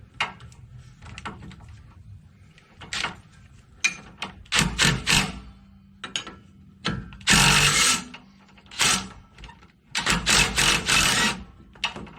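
A ratchet wrench fitted with a swivel socket turns a rear brake caliper nut on a 2016 GMC Sierra, making close, rapid clicking bursts that start and stop repeatedly, with no talking.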